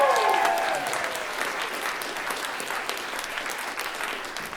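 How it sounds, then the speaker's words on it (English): Audience applause fills the hall at the TNT Show, part of the This Next Thing 2024 conference, a steady wash of clapping that holds even throughout, with a brief voice at the very start. "Let's give her a round of applause."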